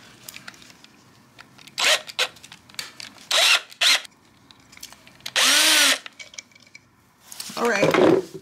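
A power drill cuts threads into the screw holes of a garage door bracket, whirring in several short bursts with clinks and pauses between them.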